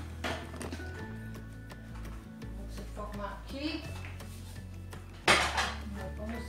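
Coffee dishes are handled in a home kitchen, with clinks and taps of crockery and cutlery and one louder clatter near the end. A low hum runs underneath.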